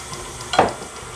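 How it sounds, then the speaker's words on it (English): Breakfast cake batter is stirred in a pan over very low heat, with one short, close scrape and squelch of mixing against a faint background sizzle; brief and without speech. "we are going to mix this until basically it leaves the pan"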